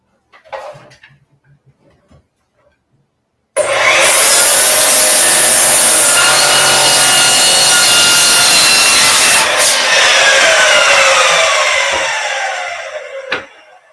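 A miter saw bites into pallet wood, a loud sustained whining cut of about nine seconds that trails off as the blade spins down, preceded by a few quiet handling knocks.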